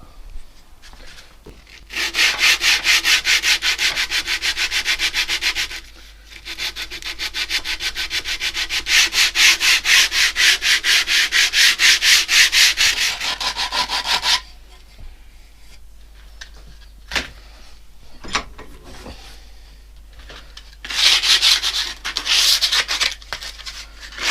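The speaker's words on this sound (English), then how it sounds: "Some sandpaper on it." Hand sanding of wood with sandpaper while building a radiator cover, heard as close, steady rasping strokes in long bursts with brief pauses, then quieter scattered scraping and a final short burst.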